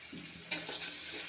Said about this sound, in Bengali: আলু পেঁয়াজ একসাথে একটু ভাজা ভাজা করে নেব